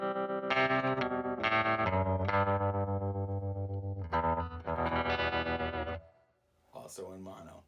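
Electric guitar played through a Digitech TR-7 stereo modulation pedal in opto mode, run in mono, giving a string of distorted, wavering chords and notes that ring for about six seconds before a short quieter phrase.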